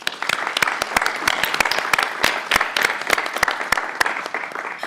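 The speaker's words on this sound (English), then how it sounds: "May we welcome Student Regent Landgrebe with a round of applause." A modest crowd at a university board of regents meeting applauds to welcome a student regent, distinct individual claps forming an irregular, fairly close patter that holds at a steady level.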